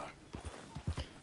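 A few quick hoof clops from a horse in the video game Red Dead Redemption, faint and uneven, several soft thuds over about a second.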